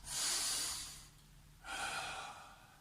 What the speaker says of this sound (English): So let's take our 3 big breaths.